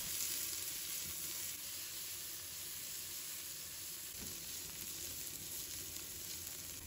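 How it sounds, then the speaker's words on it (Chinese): Ginger, shiitake mushrooms and white radish stir-fry in hot oil in a wok for a lean pork soup, an even, faint sizzling hiss lasting the whole stretch with little change and no clear stirring strokes. "油热之后，把姜放入锅中，香菇也放入锅中，白萝卜也加进来"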